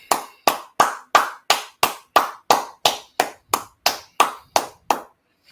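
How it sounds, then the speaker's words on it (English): Clapping in steady rhythm, about fourteen sharp, evenly spaced claps, close and fairly loud, with no talking. "Clap it up."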